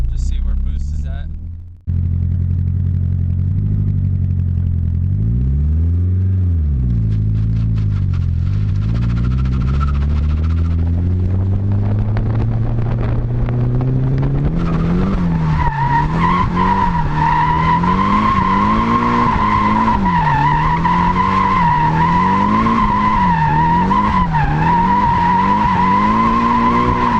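Nissan S13 drift car with an SR20DET engine and an eBay turbo revs loudly and steadily, the engine note rising and wavering as tires skid and squeal near and continuous throughout, with no talking.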